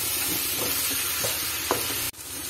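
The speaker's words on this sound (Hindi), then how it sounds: "अब हम इसको अच्छी तरह भूनेंगे 5 से 7 मिनट" Masala with tomatoes and green chilies for chicken pulao frying in a pot, a dense continuous sizzle with a few faint stirring scrapes, close and loud, a brief dip near the end.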